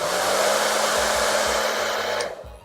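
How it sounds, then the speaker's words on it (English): A hair dryer blows in a loud, steady rushing whir up close, with a low motor hum beneath it, before it winds down and cuts off near the end. "if I turn this hairdryer on with this balloon"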